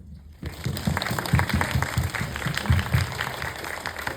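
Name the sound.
audience applause at film festival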